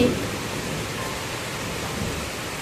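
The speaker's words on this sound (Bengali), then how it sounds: "বৃষ্টিটা দেখো ভালোই জোর আরম্ভ হয়েছে" Heavy rain pours down in a steady, dense hiss that stays even and close throughout, with no pauses.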